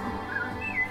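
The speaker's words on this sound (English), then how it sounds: "Nope, just bird noises." A bird sings a few thin whistled notes, faint over a steady background hum in an animated film scene, with no voices.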